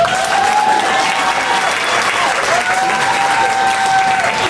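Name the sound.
audience applause, clapping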